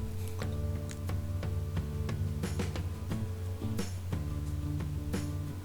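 Sharp little clicks and taps repeat irregularly as hard stones inside a sea trout's gut knock together, over a steady low hum.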